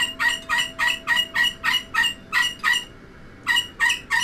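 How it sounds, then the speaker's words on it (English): A pet bird squawks loudly and insistently, a rapid series of harsh, evenly spaced calls close by, pausing briefly before resuming, over a faint indoor hum. "The bird's going ballistic, as you can hear her quite clearly"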